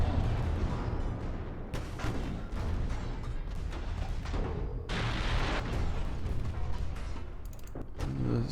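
Naval gunfire in Ultimate Admiral: Dreadnoughts, the Kronshtadt's small secondary guns firing during a ship-to-ship slugfest: a dense, continuous rumble of repeated booms and explosions that stays loud and busy throughout.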